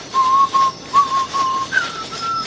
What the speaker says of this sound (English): he starts whistling. And he's whistling a traditional song.